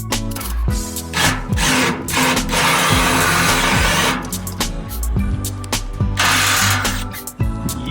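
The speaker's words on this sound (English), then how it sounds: "So I decided to stop playing around and break out the drill." A power drill works at the base of a tiny home's steps, whirring in repeated loud bursts with short pauses between, its motor rising and falling under background music.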